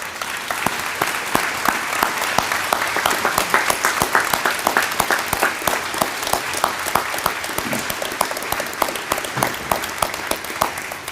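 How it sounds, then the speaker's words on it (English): Hearty applause for teachers and staff at the Clinch River Community School Class of 2024 graduation ceremony, a dense, sustained wash of many hands clapping from a large audience, steady and loud throughout with no talk. "I ask that you guys give them a hearty applause"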